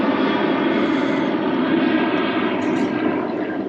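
A steady, broadband engine roar of an airplane passing overhead, loud and continuous with no talking.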